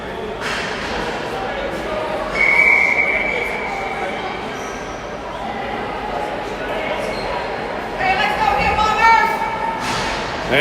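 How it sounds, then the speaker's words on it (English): A referee's whistle ends a timeout at an under-17 Barrie Bombers versus Orangeville Northmen game, one short clear blast over steady gym crowd noise, then later whistle-like squeaks, with a commentator talking. "And here goes the whistle. That's the end of the timeout."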